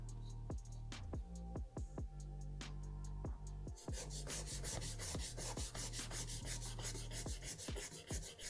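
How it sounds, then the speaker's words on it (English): Dried filler on a Jordan 5 sneaker being sanded by hand, a close, quiet run of rhythmic scratchy rubbing strokes that speed up into rapid back-and-forth passes. "Then when it dries, we can sand it down."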